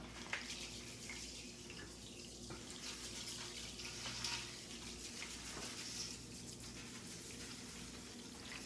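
Water pours into a pot to make a turkey brine, a continuous faint rushing stream at an even, steady flow, with a few light clinks along the way.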